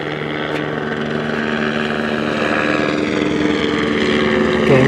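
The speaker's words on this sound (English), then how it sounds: "So they do continual flyovers of helicopters, letting me know in advance with this like the noise humming" A helicopter flying overhead in Los Angeles gives a steady, loud humming drone with a layered rotor tone that grows slightly louder toward the end.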